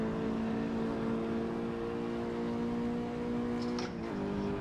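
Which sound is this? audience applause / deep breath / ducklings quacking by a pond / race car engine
race car engine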